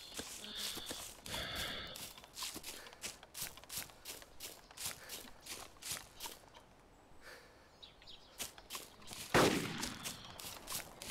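Gunshots in the DayZ Epoch video game, a rapid run of sharp cracks and pops spread through the clip at moderate distance, one louder shot near the end, with quiet footstep shuffling between.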